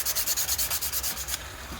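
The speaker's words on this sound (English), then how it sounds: "But just really get in there, rough it up, and get that surface area prepped" Rhythmic back-and-forth sanding strokes scuff a G10 fiberglass surface to rough it up, a steady series of close, hissing rubs with no voices.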